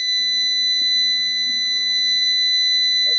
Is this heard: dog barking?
no